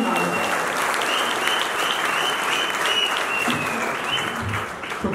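Sustained applause from a live audience at a Hindi poetry evening, greeting the Haryana poet Manoj Chhabra; steady, dense clapping throughout that holds loud and even, tapering only slightly at the end.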